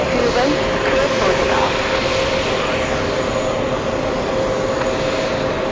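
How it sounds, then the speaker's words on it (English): An Airbus A380 auxiliary power unit starting up at JFK airport, a loud, steady roar with a sustained whine that builds and holds, with a voice speaking over it. "APU starting up on the A380. That's why it's getting loud"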